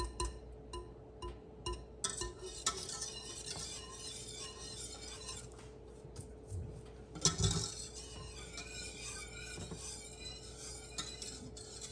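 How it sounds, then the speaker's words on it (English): A whisk clinks and scrapes against a pot of Dr. Pepper barbecue sauce on low heat, giving faint, irregular metallic taps and rattles with a louder clatter near the middle. "I'm just gonna be whisking through it"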